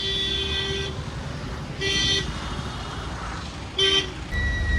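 Busy city street traffic in Gujarat with vehicles rumbling close by, and several short car horn toots sounding in separate bursts over the steady road noise.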